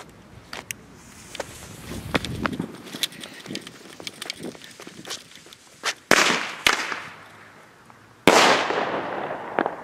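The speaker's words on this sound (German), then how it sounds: "Heute jetzt für euch im Test. Flashbang von" A Weco Flashbang firecracker goes off outdoors: scattered small crackles and pops first, then sharp loud bangs, the last two especially powerful with a trailing echo.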